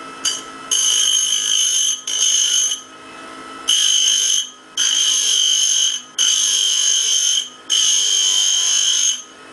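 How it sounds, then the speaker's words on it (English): A small carbide grinder whines in repeated bursts, each a few seconds long with short pauses between, the high-pitched grinding of an old broken drill bit's end loud and close. "Got an old broken drill here, I guess. So just try to grind the end flat on it."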